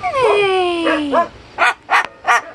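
A pet, heard up close, gives a drawn-out descending whine followed by three short, sharp barks in quick succession.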